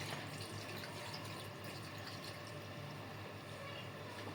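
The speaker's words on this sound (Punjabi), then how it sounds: "ਹੁਣ ਇਹਦੇ ਵਿੱਚ ਪਾਣੀ ਪਾ ਕੇ ਇਹਨੂੰ ਪਹਿਲੇ ਮਲ ਲਈਏ" Water poured from a tap or vessel into flour to knead dough, a steady continuous running and trickling sound, fairly close and unbroken, with no talk.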